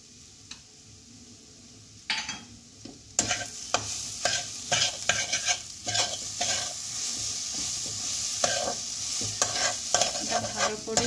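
Peas sizzling in a pan for koraishutir kochuri filling, stirred with a spoon, heard as steady frying hiss after a quiet start, broken by repeated scraping and clinking strokes close by.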